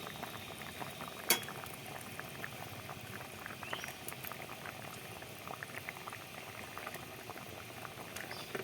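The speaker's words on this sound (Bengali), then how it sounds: "দেখুন ঝোলটা ফুটে উঠেছে" A pot of fish curry broth with green banana boils on the stove, a faint, steady bubbling and popping that carries on throughout, with one small clink early on and no voices.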